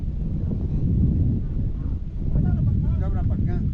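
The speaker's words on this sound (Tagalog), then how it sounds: "Ay, malakas ang hangin dito eh." Strong wind buffets the microphone in a steady low roar outdoors while a propeller, shaft and rudder are fitted to a boat, with people talking faintly in the background toward the end.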